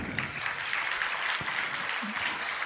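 An audience at a Jain monk's discourse in Jabalpur applauds, a continuous, fairly loud rush of many hands clapping that stays even throughout, with a faint voice briefly underneath.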